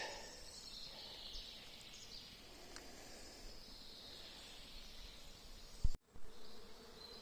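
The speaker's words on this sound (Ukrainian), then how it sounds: "Просто вулик серед лісу. Такий гул." A dense swarm of bees hums steadily in a forest while picking porcini mushrooms, a faint continuous buzz like a hive with occasional insects passing closer, ending in a brief rustle and a sharp bump.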